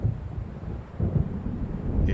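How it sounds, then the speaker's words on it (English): Low rolling thunder of an approaching storm in Alan Wake Remastered, a deep continuous rumble with swelling surges over windy, watery ambience, no voices. "It seems there's a storm coming."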